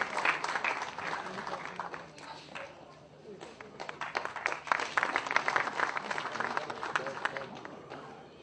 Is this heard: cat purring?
no